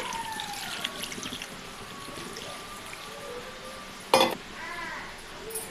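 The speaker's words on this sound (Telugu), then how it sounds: "ఉడికించుకోనాటికి సరిపడినన్ని వాటర్ వేసుకోండి" Water is poured from a vessel into a pan of village-style entra kaya curry, a soft steady trickle under low background noise, with one brief louder splash near the end.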